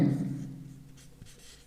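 Chalk or marker writes an equation on a board during a physics lesson on circuit currents, a brief close scratching stroke under a fading low hum, no talking.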